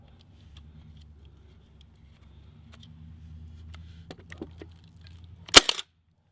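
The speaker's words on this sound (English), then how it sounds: "we've got it set where it's going to shoot shallow, and it's only going to shoot one" A Milwaukee M18 16-gauge cordless nailer fires a nail set to shallow depth, giving one loud, sharp crack near the end after a quiet stretch of low background hum and a few faint clicks.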